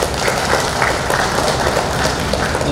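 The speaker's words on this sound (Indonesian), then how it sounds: "Tepuk tangan." Audience applause at a university morning assembly, a dense steady wash of many hands clapping at once, loud and continuous throughout with no talk over it.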